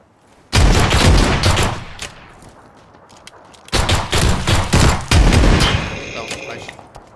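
Video game gunfire in a squad battle, rapid bursts of automatic shots in two long volleys separated by a brief lull, loud and close, with players talking faintly beneath.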